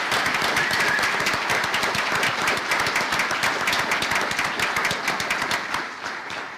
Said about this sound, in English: Please join me in making one more big round of applause for all of our students